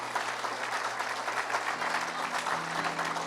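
A church congregation applauds, a dense, steady clapping that fills the space for several seconds with a low organ or keyboard tone sustained beneath it.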